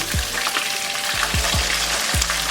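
Fish fries for Jamaican escovitch, a loud, close, continuous sizzle of hot oil with a few soft low thumps as the pieces shift in the pan.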